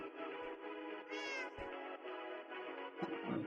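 A cat meows loudly and clearly once amid a steady indoor background hum, during a moving and teardown day.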